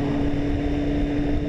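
A Yamaha MT-10 motorcycle engine hums at a steady, loud, low idle throughout a short stretch, with no talk over it.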